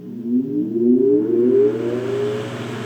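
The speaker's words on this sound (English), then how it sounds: "Has a very cool startup sound, which you probably heard." A 1925 Emerson Jr 9-inch antique desk fan with steel, brass-painted blades whirs up from rest, its motor hum rising in pitch like a gentle siren over about two seconds, then holding a steady, loud drone.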